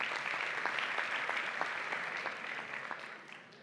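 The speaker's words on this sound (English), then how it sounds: "So give yourselves a round of applause." Audience clapping at a talk on exercise and stress, a moderately dense round of applause with distinct individual claps standing out, steady and then tapering slightly toward the end, recorded quietly.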